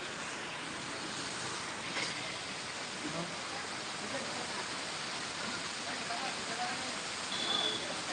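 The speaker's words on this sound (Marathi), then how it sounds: "हो भरपूर पाऊस चालू आहे इकडे" Continuous hiss of heavy rain falling, an even wash of noise that stays steady throughout, with no voices standing out.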